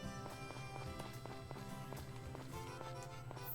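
Horse hooves clip-clopping in the farming video game Story of Seasons: Friends of Mineral Town, a quick, even run of light taps set against game background music, moderately quiet with no speech.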